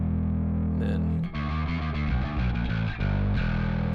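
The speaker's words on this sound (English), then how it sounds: "And then the character is the character of the distortion." A bass guitar plays a short riff through a Darkglass Adam distortion pedal with the blend mixed in, giving a thick, fuzzy, sustained tone with a few brief breaks between notes.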